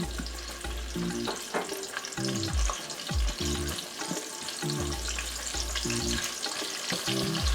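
Diced onion sizzles hard in hot oil in a pot for Ghanaian okra stew. The frying hiss is loud and continuous, broken by regular scraping stirs about once a second.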